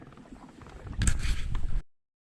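A pedal kayak moves across Whiskeytown Lake, giving soft water swishes and a brief mechanical churn of the pedal drive that swells for under a second and then cuts off, close and fairly quiet.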